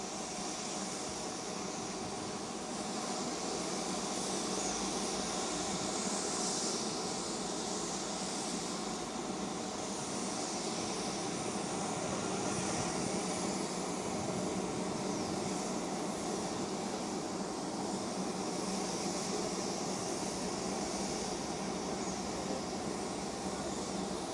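A Rafale fighter jet flying overhead, heard as a steady, loud roaring rumble of jet engine noise that holds at an even level throughout, with no talk over it.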